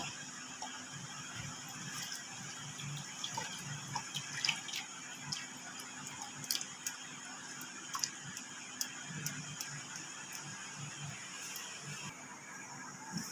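Boiled chusi sweets and their hot syrup are poured into a bowl, making a soft, steady liquid trickle with faint splashes and drips, heard alone at low volume.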